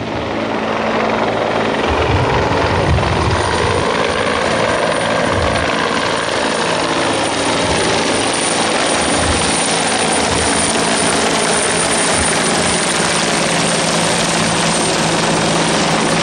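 A Bell 412 helicopter roars continuously and loudly during a military exercise, its rotor thumping in a steady rhythm throughout, with no voices.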